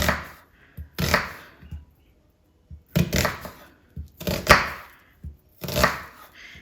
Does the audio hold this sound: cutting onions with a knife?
yes